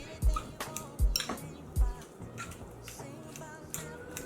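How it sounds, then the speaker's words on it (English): Sweet potato pie filling being mixed in a bowl, with three soft thumps of the utensil against the bowl in the first two seconds, then quieter scraping and tapping. "What we're gonna do is kind of mix everything in a little bit."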